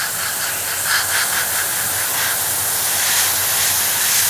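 An airbrush sprays paint thinned about 70% with Tamiya lacquer thinner, making a steady, close, continuous hiss that pulses lightly as the trigger is worked.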